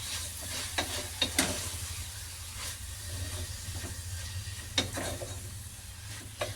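A fenugreek leaf pulao mixture is stirred in a pan, with a soft continuous sizzle, occasional scraping clinks and a steady low hum, fairly quiet with no voices.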